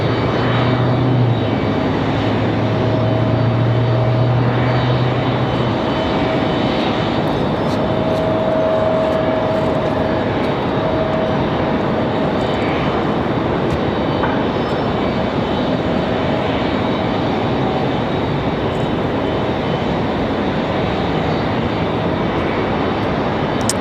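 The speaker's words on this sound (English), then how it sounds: "Speaking of CRJs, we've got another one lined up ready to go." An Endeavor or Delta Connection CRJ regional jet departing Raleigh-Durham International, a loud sustained engine roar with a brief low tonal hum early on, no speech.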